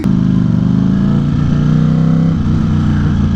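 A Ducati Streetfighter V4 motorcycle engine runs loud and close, a steady throbbing idle with a low rumbling note and no talk over it.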